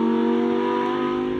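Lamborghini Huracan STO driving on a public road, a loud steady engine drone heard from inside the car at constant pitch and level for a brief moment, with no speech.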